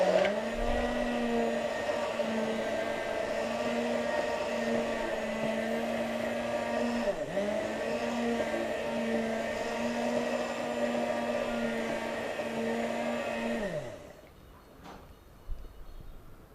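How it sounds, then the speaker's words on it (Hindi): A kitchen blender runs steadily while blending a watermelon smoothie, giving a loud continuous whirring motor drone. There is a brief dip in the middle, and the motor winds down and stops near the end. "अब हम इसे फिर से एक बार ब्लेंड करते हैं।"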